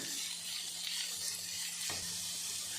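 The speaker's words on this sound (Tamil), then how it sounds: "பொன்னிறமாக வறுத்துக்கணும் ஆனியனை" Chopped onions fry in a pan for Chettinad chicken, giving a soft, even sizzle with a low background hum and no voices.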